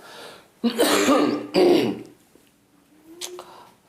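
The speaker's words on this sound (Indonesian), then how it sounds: "Aduh, batuk." Two loud, harsh throat-clearing coughs in quick succession, close to the microphone, followed by a short quieter grunt.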